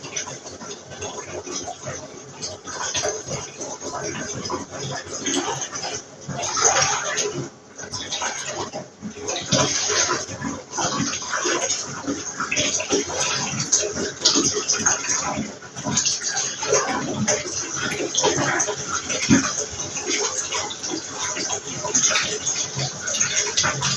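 Water runs from a tap in a steady, rushing gush that fills the whole stretch, with faint voices underneath.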